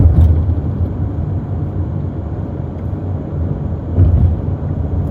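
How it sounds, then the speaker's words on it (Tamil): Steady low rumble of busy road traffic in Saudi Arabia, continuous engine and tire noise swelling slightly as vehicles pass, no voices. "இந்த ரோடு எப்போவுமே டிராஃபிக்காக தான் இருக்கும்"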